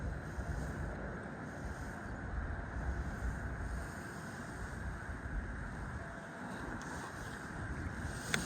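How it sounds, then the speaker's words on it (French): Wind blows over open water during a pike fishing outing, a steady broadband rush and buffeting against the microphone that carries on throughout at moderate level, with no voices. "Il y a du vent"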